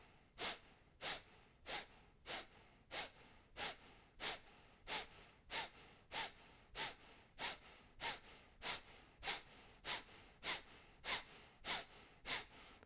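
Kapalabhati skull-shining breath: about twenty sharp, forceful nasal exhales in a steady, even rhythm, each a short rushing snort of air with no talking between them.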